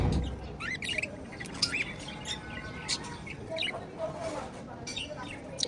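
Pet budgerigars chirp and squawk in quick, scattered bursts, fairly close and busy over a steady background hiss.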